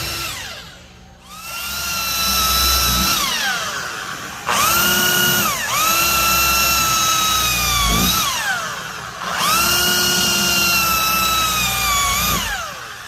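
A handheld electric drill motor slowly stirs a homemade eco-friendly herbal oil mixture, whining up and down in pitch through three long bursts with brief dips between, close and loud.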